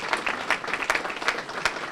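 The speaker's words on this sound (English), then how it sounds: "Let's give him a round of applause in his absence." An audience at a student research day applauds, a dense, steady round of clapping from a mid-sized crowd filling the moment with no speech over it.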